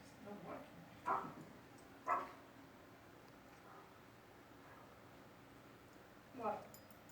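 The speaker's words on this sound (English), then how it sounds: "I want to say thanks to my dog Draco for his contributions" A dog lets out a few short, separate yelps and barks with pauses between them, faint against a quiet room background.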